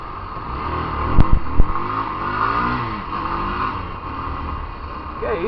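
A motorcycle idles and revs close by, with a few sharp mechanical knocks early on. The engine then drops in pitch and fades as it dies, and a voice comes in near the end.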